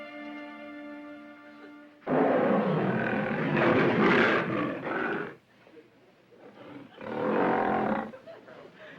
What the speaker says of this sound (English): How about playing your wild animal record